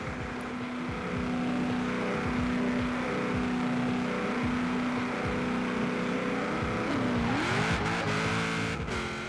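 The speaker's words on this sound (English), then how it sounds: "I did tune this car to launch at 4K RPMs, so that's what I'm going to do now." A car in Forza Horizon 4, tuned to launch at 4,000 RPM, holds a steady high engine drone and then surges with a rising rev as it launches, loud and close, with no talking.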